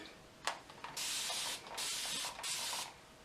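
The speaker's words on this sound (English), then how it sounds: "I'm going to spray my hair with my little spray bottle." Three bursts of fine misting spray from a pump bottle onto hair, each hissing for about half a second, preceded by a faint click; close and fairly quiet.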